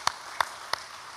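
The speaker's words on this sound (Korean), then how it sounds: "우리 수고하신 찬양들을 크게 감사의 박수 한번 합니다." Three sharp, separate claps spaced evenly apart from a church congregation, crisp and fairly close with quiet between them.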